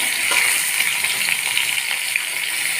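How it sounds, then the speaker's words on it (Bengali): Whole cumin, chopped ginger and bay leaf sizzle and spit steadily in hot oil, a close, continuous crackling hiss with no talk over it. "তেলটা যখন গরম হয়ে গেছে আমি তাতে দিয়ে দিচ্ছি গোটা জিরে, দিয়ে দিচ্ছি আদা কুচনো"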